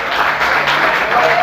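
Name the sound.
congregation applauding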